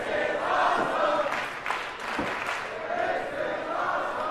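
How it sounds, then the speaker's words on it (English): A wrestling crowd at a Future Stars of Wrestling show roars and cheers excitedly, a loud, surging mass of voices that swells and dips throughout. "You can hear the crowd, they are excited to see us."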